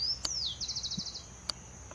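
A wild songbird that learns its song sings alone outdoors, opening with a high downward-sweeping whistle followed by a quick run of bright repeated notes, with a few sharp clicks and faint low background rumble.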